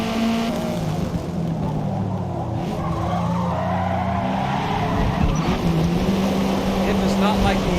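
Race car in Forza Motorsport skidding through a corner on the e-brake, tires squealing and sliding over engine noise, continuous and loud, with a voice talking over it.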